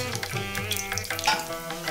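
Cumin seeds and dal frying in hot oil with mustard seeds, a steady close sizzle with stirring scrapes, for rice flour upma.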